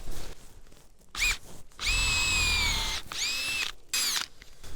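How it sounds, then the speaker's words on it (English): A power drill whines in several bursts, one long steady run between shorter spurts and pauses, close by with no talking, drilling a tap hole into a maple tree. "I do drill these a little deeper than a lot of people do."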